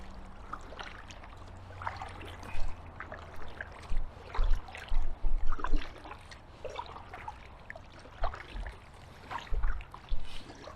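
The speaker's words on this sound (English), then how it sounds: "Slight breeze, which I'm going into, I'm paddling up the loch." A kayak paddle dips and pulls through the calm water of a Scottish loch in a light breeze, with soft splashes and trickles coming in irregular strokes close by.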